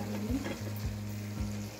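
Tempering sizzles in a small pan on the stove for rasam, a steady close hiss with a few soft taps from stirring layered over a constant low hum.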